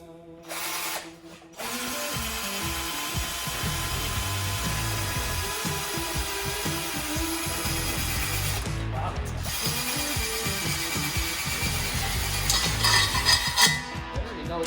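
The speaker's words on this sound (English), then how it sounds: "let's go ahead and get it drilled real quick" A power drill bores out a carburetor mounting bracket on a turbo rat rod Porsche, running steadily and loudly up close for over ten seconds, with brief pauses and a speed change partway through.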